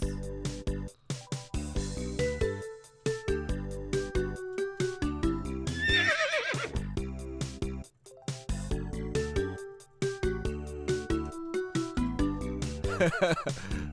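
Repeated horse whinnies ring out amid a busy, looping RPG Maker 2003 game soundtrack with plucky musical notes and clip-clop effects.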